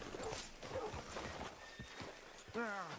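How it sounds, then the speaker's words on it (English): Horse in Red Dead Redemption 2 snorting and whinnying, with a clear neigh near the end, over clip-clopping hooves and background chatter as people talk. "Hitch your horse up here."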